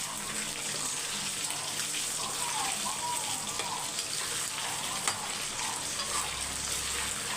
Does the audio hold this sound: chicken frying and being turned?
yes